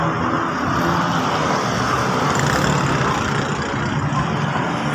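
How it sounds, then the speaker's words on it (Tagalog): Trucks pass on a road coming from Bicutan toward Taytay, making a steady, loud engine and tyre roar that stays continuous throughout, with no one speaking. "Ayan, mga truck na yan."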